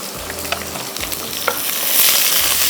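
Half an onion browning in a pan for tarka chawal, a steady close sizzle with rhythmic scraping stirs of a spoon, the frying hiss swelling toward the end; no one talks.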